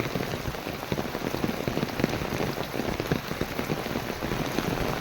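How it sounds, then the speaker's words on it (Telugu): Heavy rain pours down steadily outdoors near Nellore, a dense, loud, continuous patter of drops on surfaces with no breaks and no talk. "వాన అయితే బాగా పడుతుంది ఫ్రెండ్స్"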